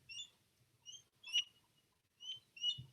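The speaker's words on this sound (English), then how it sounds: "I don't know if you can hear a bird call in the background." Bird calling outdoors by the Beagle Channel, a few sharp, high chirps spaced irregularly across a quiet background, faint and distant with soft low rumbles between them.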